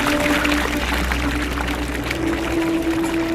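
Water poured out at the same moment during a demonstration of Inca hydraulic engineering, making a steady, continuous rushing pour that lasts the full stretch at even loudness.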